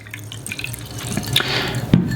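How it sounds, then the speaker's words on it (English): Water is poured by hand into a Star Wars Death Star planter, a continuous splashing and trickling fill heard up close, rising slightly toward the end. "you'll just pour water directly into here until it's pretty much all the way full"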